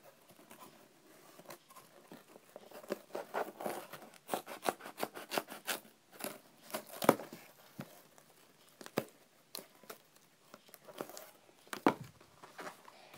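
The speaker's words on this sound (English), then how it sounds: "And I'm gonna cut some of it off." Scissors snip through duct tape while a mermaid monofin is being made, giving a run of close, crisp cuts and crinkles. The cuts come in irregular clusters with no talking.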